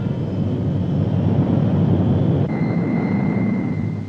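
A C-130 Hercules Navy transport plane flying supply runs to remote Antarctic interior stations gives a steady, loud propeller-engine drone that holds evenly throughout, with a faint tonal whine shifting partway through and no voices.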